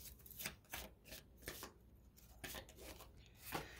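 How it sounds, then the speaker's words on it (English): A deck of Kipper fortune-telling cards is shuffled by hand for a reading, a quiet, close series of rhythmic riffling bursts about every second, with no talking. "2 more shuffles, please."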